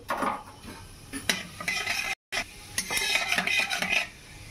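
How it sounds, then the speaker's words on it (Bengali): Cumin seeds frying in hot white cooking oil as a utensil stirs and scrapes the pan, giving close, intermittent metallic clinks over a soft sizzle. "তো এখানে আমি তেল দিচ্ছি, সাদা তেল। তো আমি দেবো একটু জিরে"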